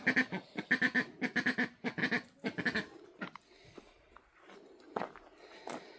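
Several ducks quack in a muddy chicken run, a rapid burst of loud, close quacks followed by scattered fainter calls and rustling.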